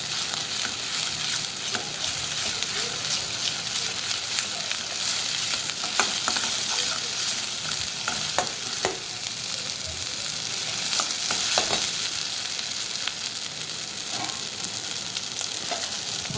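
Masvadi rassa curry is stirred in a pan until the oil separates, giving a continuous loud sizzle with scraping and stirring scrapes scattered throughout and no talking.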